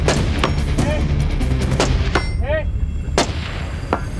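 Gunshots fired from a tripod ring out at intervals, sharp loud cracks with metallic pings of rounds striking steel targets, over a steady outdoor background.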